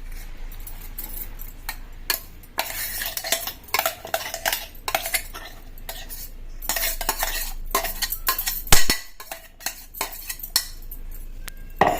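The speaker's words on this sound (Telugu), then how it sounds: "చూడండి ఇది కలుపుకోవాలి మంచిగా" Chapati, ghee and wheat flour being mixed by hand in a metal vessel for malida, with repeated close scraping, clinking and rustling in an irregular rhythm.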